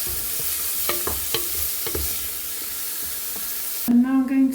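Garlic slices and celery fry in a pan with a low, steady sizzle. Repeated spatula taps and scrapes sound up close, then a person starts talking at the end.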